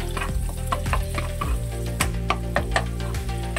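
Butter sizzles and fries in a hot pan for garlic butter lobster, a dense, steady crackle with sharp pops and stirring scrapes throughout, close and fairly loud.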